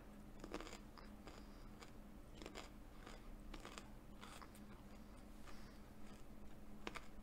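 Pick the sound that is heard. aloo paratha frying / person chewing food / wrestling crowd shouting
person chewing food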